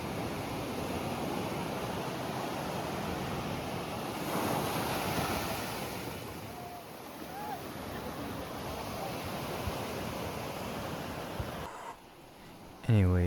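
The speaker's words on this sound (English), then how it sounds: "you really can't beat the ocean sound" Ocean waves washing over a rocky beach with big boulders near Puerto Vallarta, a loud, steady roar of surf mixed with wind noise on the microphone, cutting off near the end.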